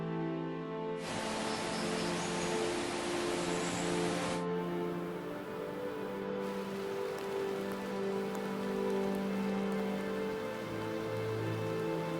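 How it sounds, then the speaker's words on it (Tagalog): Steady rain patters on surfaces on Camiguin Island, Philippines, with a denser burst of heavier rainfall for a few seconds early on, otherwise a constant soft wash of drops. "Nung tumila na ang ulan,"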